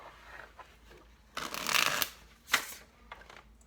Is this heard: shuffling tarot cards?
yes